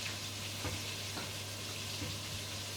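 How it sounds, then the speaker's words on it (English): Chicken frying in garlic-infused oil, KFC-style, with a steady close sizzle and a low hum, a few soft stirring knocks breaking through. "It's cooking well, sizzling well"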